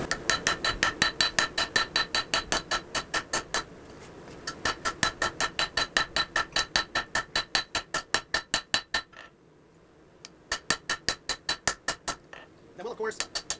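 Steady, rhythmic hammer blows ring out as a cleaver's integral bolster is hand forged and stepped down with a straight peen, with a few short pauses between the bursts of strikes.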